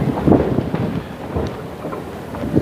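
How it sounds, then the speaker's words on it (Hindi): Strong, cold wind blowing through Bandhavgarh forest, a loud, gusting rumble that swells and eases unevenly, with no voices. "बहुत ज़ोर से हवा चल रही है और हवा बहुत ठंडी है"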